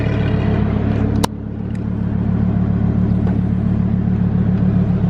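A deep, steady engine rumble from a nearby Lamborghini HTO sports car idling, with a brief sharp click partway through and no talking.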